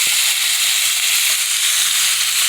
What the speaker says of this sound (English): I have it on a high heat when I add my burger to the pan.